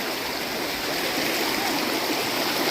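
Fast-flowing floodwater in a rocky stream being waded across, a loud, continuous rushing and gurgling wash that stays close and steady throughout, with no talk over it.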